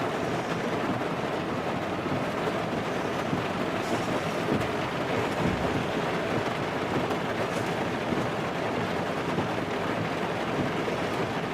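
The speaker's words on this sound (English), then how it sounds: "That creek's normally always dry except for when it rains, and oh my gosh, it's really flooded out." A normally dry creek flooded with rainwater rushes loudly and steadily, a dense continuous roar of churning water with some wind buffeting the microphone and no voices.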